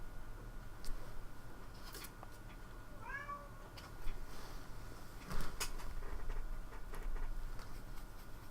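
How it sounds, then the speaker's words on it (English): A cat meows a few times for food, faint and somewhat distant, two or three short rising calls over a steady background hum, with no speech. "The cat doesn't want pets though, it wants food."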